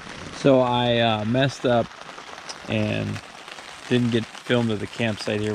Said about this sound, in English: It's raining. It's supposed to rain all night and rain in a couple days